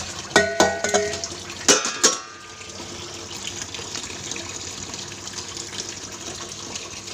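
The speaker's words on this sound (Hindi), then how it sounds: "पहले मैं हाथ धो ले रही हूँ।" Hands being washed under a running kitchen tap, with a steady close splash of water and a few sharp clinks of dishes at the start.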